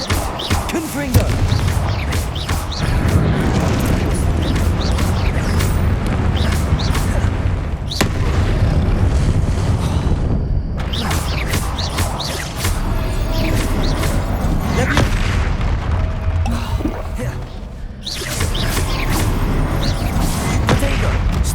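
Repeated Confringo spell blasts in the Hogwarts Legacy game boom and crash in rapid succession amid battle effects, loud and dense, with brief pauses between flurries.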